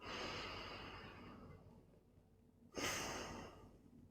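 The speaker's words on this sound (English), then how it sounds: "Deep breath." A person takes a slow deep breath, a long soft breathy exhale that fades out, a pause, then a sharper audible intake of breath, all close and alone.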